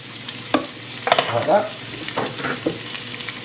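Carrot soup vegetables sizzle steadily in a pan while a utensil scrapes and knocks through them in irregular strokes, with a brief spoken phrase over the cooking.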